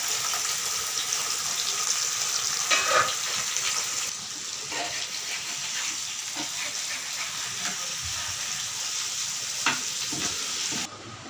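Curry leaves and fennel seeds fry in hot oil for a fish curry, a steady close crackling sizzle with scattered pops and stirring scrapes running continuously for about eleven seconds, without talk.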